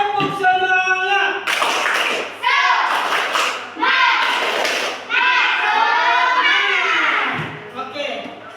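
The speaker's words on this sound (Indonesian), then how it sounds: "Tepuk semangat." A class of standing schoolchildren does a rhythmic spirit clap in an Indonesian classroom, loud patterned bursts of clapping and thumps alternating with chanted group voices, close and energetic.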